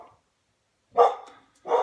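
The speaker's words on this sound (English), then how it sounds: "the dogs are barking" Two short bursts of dog barking, a pause of quiet between them, moderately close and fairly loud.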